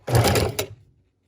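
Short burst of a sewing machine stitching across the bottom of a paper junk-journal tag, a quick close whirr lasting under a second before stopping.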